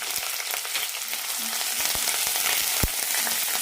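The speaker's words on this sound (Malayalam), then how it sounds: "നന്നായി വഴറ്റാം ചെറിയ ഉള്ളി ലൈറ്റായിട്ടൊന്ന് ഗോൾഡൻ കളർ ആവണം" Shallots, curry leaves, ginger and green chili sauté in hot oil, a loud, steady sizzle with occasional stirring clinks and scrapes throughout, close and continuous.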